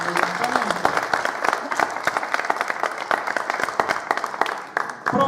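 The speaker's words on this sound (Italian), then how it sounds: "al quale tributerei un applauso" An evening audience at a Sardinian cantu a chitarra folk-song event in Cossoine applauds, many distinct hand claps in a brisk, steady patter at close range that carry on for several seconds.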